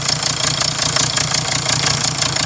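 A 2019 Hyundai Tucson D4HA diesel engine runs steadily at idle with a clogged exhaust, giving a continuous, close, loud rumble with a rough knocking pulse and a hint of misfire.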